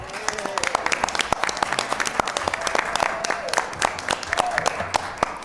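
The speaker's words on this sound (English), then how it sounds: "we give Pastor Boyd a round of applause" An audience at a city council meeting applauds with steady, sharp clapping lasting several seconds, with some voices mixed in under the claps.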